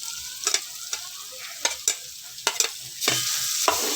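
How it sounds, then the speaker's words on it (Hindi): Chicken pieces and carrots stir-fried in a pan, a steady sizzle broken by sharp, irregular spatula clacks and scrapes close by, with no voices. "2 मिनट के लिए इसे हल्का सा ऐसे भून के"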